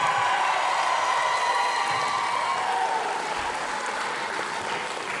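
Crowd at a Philadelphia professional wrestling show applauding and cheering steadily, a dense wash of clapping that holds at an even level throughout with no talk over it.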